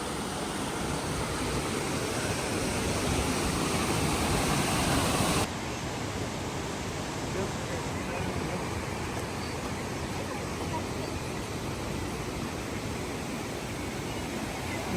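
A river and waterfall below in Tbilisi, Georgia, give a steady, unbroken rushing roar that fills the whole stretch. Partway through it becomes slightly softer and then holds level.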